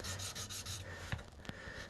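A 13 amp mains plug being hand-sanded with 800-grit wet-and-dry paper: soft, faint rhythmic rubbing strokes, several quick passes followed by a couple of brief scuffs, close up and alone.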